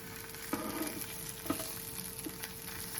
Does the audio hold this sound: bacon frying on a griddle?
yes